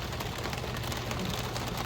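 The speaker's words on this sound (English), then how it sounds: "It was hammering down. Even turned to some light hail as well." Heavy rain mixed with light hail pounds steadily on the roof of a Porsche on a Colorado Rockies mountain pass, a dense, loud, unbroken patter heard close with no voices.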